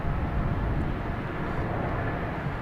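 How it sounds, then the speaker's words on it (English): A JetBlue Airbus A220 takes off at Boston Logan Airport, giving a steady, broad jet roar that stays loud and unbroken throughout, with no voices over it. "we have JetBlue and A220 taking off to Savannah"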